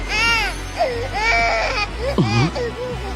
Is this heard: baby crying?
yes